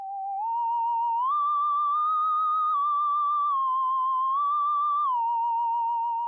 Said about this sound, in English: We added the theremin. Now you've probably heard this instrument before.